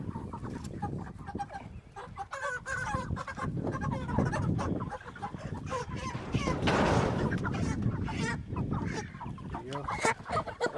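Chickens cluck inside a hoop structure, with repeated close clucks and squawks tumbling over one another without pause.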